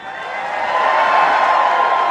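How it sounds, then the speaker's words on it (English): Audience at the reopening of the Longhorn Ballroom greeting the host with a swelling wash of applause and cheering, building quickly and staying loud and dense. "Give a big round of applause and welcome to our friend Edwin Kaplis."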